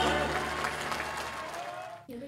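Hearty audience applause after a performance of the Filipino patriotic song Bayan Ko at a concert, a dense steady clapping wash that cuts off abruptly near the end.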